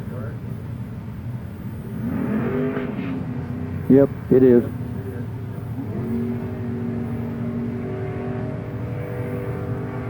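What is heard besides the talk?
drag racing car accelerating down the strip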